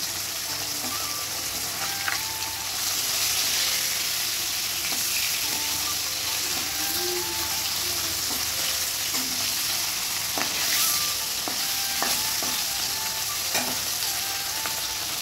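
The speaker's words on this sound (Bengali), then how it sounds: "আর মাছটা ভাজতে কিন্তু আমার রান্নাবান্না কমপ্লিট হয়ে যায়।" Fish sizzles and spits steadily in a hot frying pan in a village kitchen, a continuous loud crackle with occasional sharper pops and scraping stirs, no voices.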